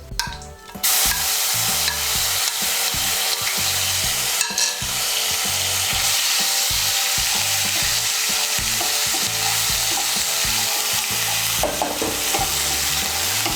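Onion paste from one medium onion fries in oil for an egg and coconut malaikari, a continuous close sizzle broken by repeated scraping stirs of a spoon against the pan, with no voices.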